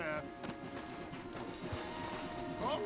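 Horse hooves clop along a forest path in the Red Dead Redemption 2 video game, a steady patter of steps under game music and ambience while people talk over it.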